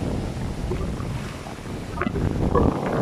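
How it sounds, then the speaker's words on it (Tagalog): Steady, strong wind roars across an open microphone on a beach in Cancun, with a low rumbling wash that swells slightly toward the end. "Sobrang hangin."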